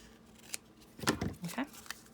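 Scissors snip through a scrap of paper during papercraft trimming, a few quick close cuts and rustles, faint and brief.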